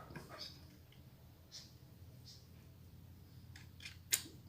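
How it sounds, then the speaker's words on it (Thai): Cylinder of a .22 cowboy revolver, just cleaned and refitted and turning slightly stiffly, rotated by hand to give a few faint, sharp little clicks against a quiet background. "ใส่เข้าไปแล้วก็หมุนดังเสียงกิ๊กกิ๊กกิ๊กกิ๊กแบบนี้ก็โอเคแล้วนะครับ"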